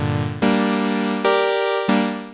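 Bright synth chords built from two saw-wave oscillators in Ableton, three buzzy sustained chords struck in succession, loud and close, each ringing until the next, with no effects.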